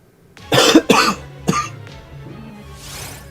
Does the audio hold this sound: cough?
yes